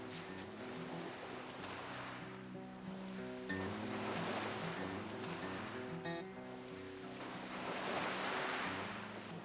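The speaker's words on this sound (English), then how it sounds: "I just need to quickly gut the fish, rinse it in the sea, and we're ready to start." Sea waves wash and surge continuously along an Alaskan shore where a gutted salmon is rinsed. Swells rise and fall loud and near, with a low steady hum underneath and no voices.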